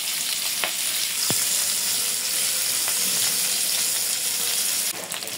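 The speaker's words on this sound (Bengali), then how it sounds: "প্রথমে আমি মাছগুলা ভেজে নেব" Fish pieces fry in hot oil, rubbed with salt and turmeric, giving a steady, close, loud sizzle with occasional pops and clicks throughout.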